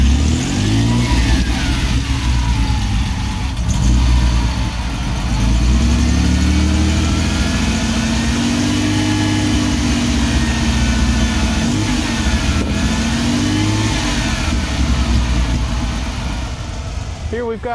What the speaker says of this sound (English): not your typical whiny V6 kind of sound.